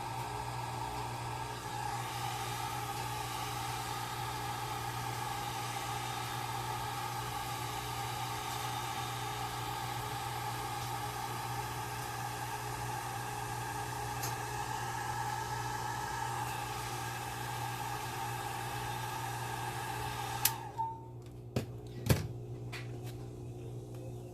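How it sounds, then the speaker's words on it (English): A Ranger air blower drying alcohol ink on a ceramic tile gives a steady whirring drone with a faint hum, running evenly before cutting off near the end, followed by a few light knocks. "this is the Ranger air blower"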